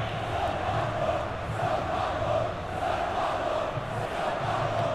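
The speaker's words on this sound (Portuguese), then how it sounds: "E a torcida canta e grita." A dense stadium crowd in the FIFA 21 football game sings and shouts together, a continuous broad roar with swelling chant-like waves, loud and steady throughout without any distinct single voice.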